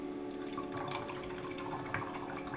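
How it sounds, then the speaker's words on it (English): A paintbrush rinsed in a water pot while painting miniatures, small close swishes and drips of water, soft and continuous. "Oh, I shouldn't have washed the brush off."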